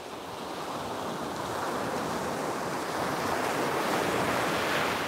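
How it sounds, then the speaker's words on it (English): Cold wind blowing steadily outdoors, a broad continuous rushing roar that builds slightly and stays loud throughout, with gusty buffeting on the microphone. "Here comes the wind again."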